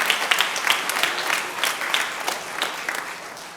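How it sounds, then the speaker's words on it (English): Applause at an elementary school veterans assembly: a room full of people clapping steadily with dense, crisp claps that hold throughout and taper slightly at the end. "Let's give them a round of applause."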